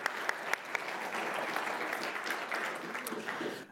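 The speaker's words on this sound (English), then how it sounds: "Once again, we give you a big hand of applause" Conference audience at a skeptics' congress breaking into warm applause, a thick sustained roar of clapping that fades out at the end.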